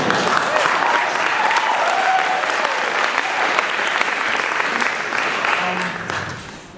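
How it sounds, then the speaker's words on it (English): A live audience applauds at a gamelan lecture demonstration, dense sustained clapping that carries on for several seconds and then tapers slightly at the end. "Thank you for the applause."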